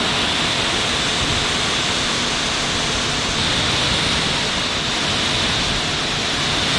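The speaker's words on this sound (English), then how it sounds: "Right, so the Karcher gun is on." A Karcher K4 pressure washer on its hardest setting blasts water onto a car in a loud, unbroken broadband hiss close to the microphone, steady throughout without speech.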